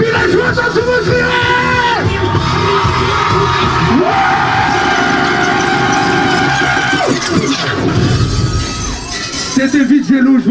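A concert crowd at a live show shouts and cheers with joy, a loud, sustained wall of yelling voices with sharper whoops rising through it, briefly dipping near the end before surging again.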